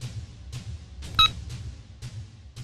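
A phone dialing sequence plays in a Hindi-dubbed movie scene: a few short, evenly spaced tone pulses about half a second apart, with one brief, brighter beep standing out in the middle, fairly quiet and without speech.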